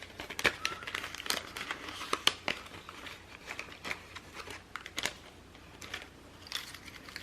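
Plastic packaging of a bundle of paper die cut shapes being opened by hand, with irregular crinkling, rustling and crisp crackles and taps coming in bursts close by, no talking.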